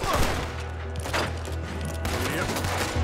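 Lenny's gun fires in Red Dead Redemption 2, a few sharp shots breaking through a dense, steady wash of game sound and a low drone, fairly loud and close.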